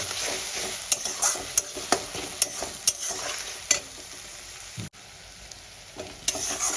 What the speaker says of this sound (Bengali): আমি পেঁয়াজ কিছুটাই প্রেফার করব এটাকে আমি ভালো করে গোল্ডেন ব্রাউন করে ভেজে দেব